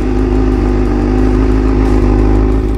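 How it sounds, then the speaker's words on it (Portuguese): A motorcycle arrives in town, its engine droning loud and close with a steady, throaty rumble that holds without pause throughout. "Depois, vemos um homem chegar naquela mesma cidade de moto."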